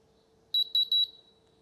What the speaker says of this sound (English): Arm the alarm system.